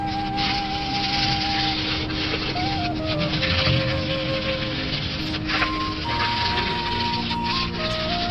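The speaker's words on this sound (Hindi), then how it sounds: "बहुत ही हल्के हाथ से इसको पॉलिश करनी है धीरे धीरे।" Steady hand rubbing of spirit polish over a wooden surface, a continuous soft friction sound that stays even and close throughout, with faint tonal background hum underneath.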